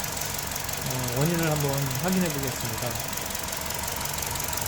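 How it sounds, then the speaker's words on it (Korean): A Kia New Carens with an LPI engine idles roughly and misfires, giving an uneven, knocking engine rumble close up while someone speaks over it. "뉴카렌스 차량이 엔진이 부조해서 입고하였는데"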